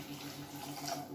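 Water pouring steadily into a pan, about four tumblers' worth while cooking, a soft continuous splashing trickle, fairly quiet.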